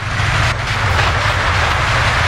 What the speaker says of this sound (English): Do you see that train that's appearing in front of me?